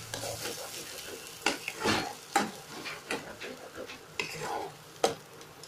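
Green pea filling for kochuri, seasoned with sugar, stirred quickly in a frying pan: a spoon scrapes the pan in sharp irregular strokes with a few louder knocks over a soft sizzle, close up, no talking.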